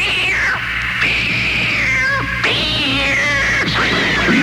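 Taped cries of cats in a laboratory play loud and near on a radio morning show, with repeated drawn-out wailing meows that overlap and rise and fall over a low steady hum.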